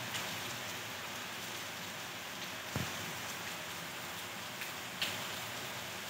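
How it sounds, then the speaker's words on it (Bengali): Rain falls outside a window on a wet day with the lane flooded, making a faint, steady patter with a few louder drips and no one speaking. "এইরকম বৃষ্টির ওয়েদারে"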